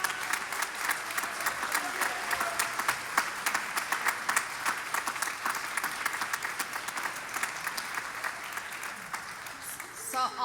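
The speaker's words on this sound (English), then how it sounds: "give them a big round of applause" A large crowd at a graduation commencement ceremony applauds steadily, dense clapping rolling on for several seconds with voices mixed in underneath.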